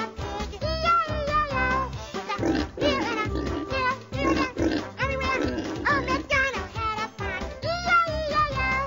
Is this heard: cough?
no